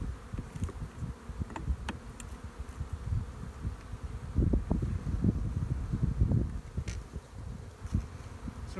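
Honeybees buzzing as a hive is split open and inspected, a steady close insect drone that swells louder midway, with faint rustling and scattered clicks from the hive work.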